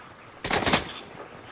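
Burst of gunfire in a split-screen duos video game, a short cluster of loud shots lasting about half a second, then quieter game ambience.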